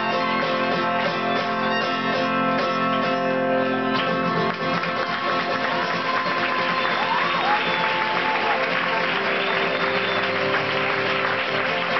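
Café audience in Madrid applauds after a live song with violin, a dense, steady wash of clapping that carries on for the whole stretch, with a faint voice briefly rising through it.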